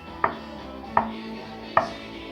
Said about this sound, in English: I want to do the knuckle test so you can see how thick this MDF board is